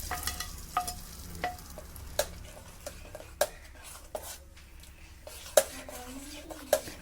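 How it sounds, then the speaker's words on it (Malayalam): Fried shallots and curry leaves being stirred into an ash gourd lentil curry, quiet background cooking hiss broken by repeated sharp clinks of a spoon against the pot at irregular intervals. "ഇനി ഇത് നമുക്ക് കറിയിലേക്ക് ചേർത്ത് നല്ലതുപോലെ മിക്സ് ചെയ്തെടുക്കാം."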